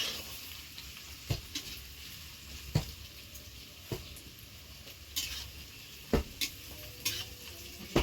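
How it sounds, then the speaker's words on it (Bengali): Onions fry in hot oil as a green jackfruit dish is started, giving a quiet, steady sizzling hiss broken by occasional clicks and scrapes of a stirring spatula. "তেল গরম হয়ে গেছে, পেঁয়াজটা দিয়েছি।"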